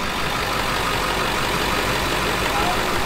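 A vehicle's engine idles steadily in low-range gear during an off-road vehicle rescue, a continuous close rumble with a light throttle that barely changes over a few seconds.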